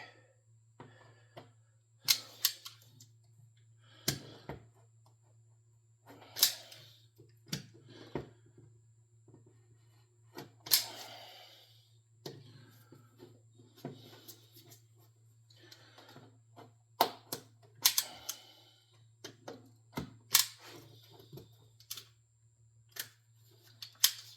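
Scissors cutting out a paper letter, a series of sharp, separate snips and rustles spaced irregularly over a steady low hum, close and moderately loud, with no voices.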